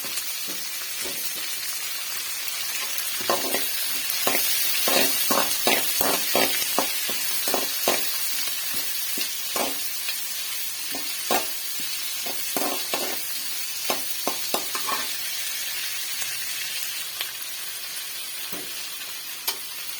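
Tomatoes and curry leaves frying and sizzling in a pan for a chutney, with a steady hiss and repeated bursts of crackling spatter as the food is stirred, close and alone with no voices.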